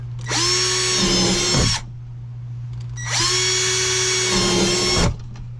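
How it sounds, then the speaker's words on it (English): A power drill whines up at high speed twice, each burst lasting over a second, with a faint crack of bit breaking through a plastic tote as it drills drain holes. "So I'm going to drill drain holes in all these totes all the way around"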